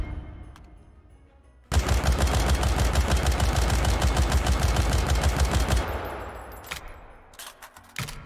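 Sustained automatic fire from a GK2 assault rifle in the VR shooter H3VR, a loud rapid burst of about four seconds after a quieter lead-in, followed by scattered handling clanks and clicks.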